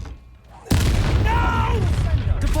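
A Confringo spell blast in Hogwarts Legacy lands as a sudden, loud, close boom, followed by a rumbling, crackling tail that fills the rest of the moment.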